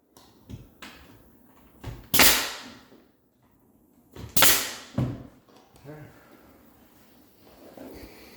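A brad nailer fires nails into a baseboard miter joint, with two sharp, loud pneumatic snaps a couple of seconds apart among lighter tapping and handling noises, close by.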